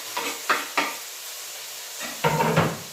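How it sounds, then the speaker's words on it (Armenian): Chopped onion sizzles and hisses in a hot pan for rice pilaf, with a few sharp scraping stirs of a utensil against the pan standing out over a steady frying hiss. "Հիմա ավելացնում եմ սոխը"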